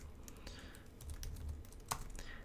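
Keys tap out a command on a computer keyboard in a quick, faint, irregular run of soft clicks, close by, with no one speaking.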